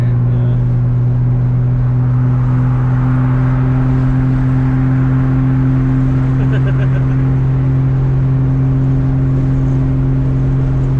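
A Toyota Supra MKIV engine, heard from inside the car, holds a loud, steady, droning roar at high revs that stays constant for the whole stretch.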